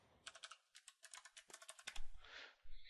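Fast, crisp keystrokes on a computer keyboard type out a short command, a quick burst of close clicks and taps that ends with a heavier press, with no talking.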